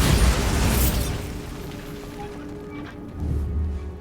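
A Bombarda spell detonates in Hogwarts Legacy, a loud deep boom that rolls into a long low rumble and then swells again with a second heavy blast near the end.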